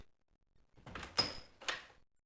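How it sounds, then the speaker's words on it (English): A wooden study door is unlocked and opened: a few soft clicks and rattles build into two sharper knocks or thuds with a brief creak, close and distinct in a quiet room. "I've opened the door."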